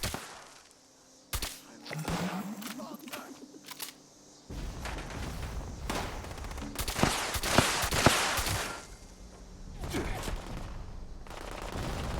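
Fallout 76 firefight with shotgun and other weapons: bursts of close, loud gunfire and booms come in clusters across the span, with sharp single shots between the volleys.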